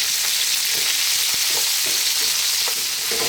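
Sliced onion rings fry on high heat in a curry pan, giving a steady loud sizzle throughout with a few soft stirring clicks and scrapes.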